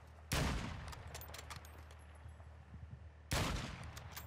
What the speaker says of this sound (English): I think we just got shot at.